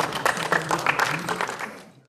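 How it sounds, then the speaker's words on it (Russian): A room of people gathered at a house claps for a speaker. The applause is brisk and steady, then thins out and fades to silence near the end. "они хлопали выступающему в ответ"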